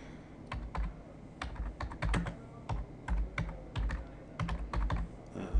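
Fingers type steadily on a computer keyboard while entering figures into a spreadsheet, producing quick irregular bursts of clicking keystrokes with short pauses, close and alone without speech.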